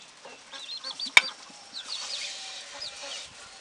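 A goose gripes with a run of short, nasal honking calls beside a wood duck house where ducklings shelter, plus one sharp loud note mid-way and quieter calls after, close by.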